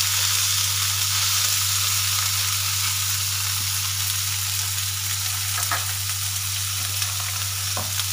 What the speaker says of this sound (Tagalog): If the oil is ready hot, we can put our salmon